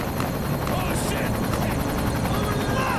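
A helicopter in a Half-Life 1 animated film whirs steadily and loudly throughout, a dense rotor drone under faint talk and scattered action noise.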